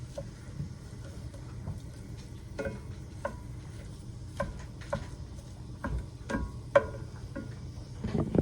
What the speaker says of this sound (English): I'm gonna get all this sausage cooked